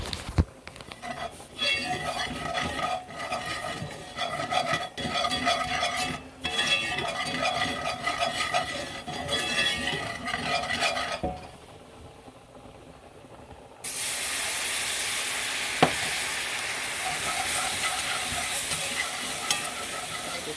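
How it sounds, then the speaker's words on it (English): A flour roux being stirred into hot pork chop pan drippings, steady sizzling and frying hiss with scraping stirring strokes, briefly dropping quieter before the sizzle returns louder and brighter. "With the stirring."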